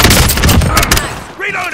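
Gunfire in the video game Call of Duty Modern Warfare, a rapid loud burst of shots crackling in quick succession, fading into a brief ringing tail with a faint voice.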